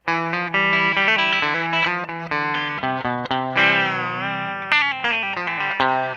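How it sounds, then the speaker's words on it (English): Bright, twangy electric guitar strums and chords ring out clearly, a crisp single-coil bite with a touch of grit and no talking. "I'm going to make it sound like a Fender Telecaster. Listen to the tone and compare."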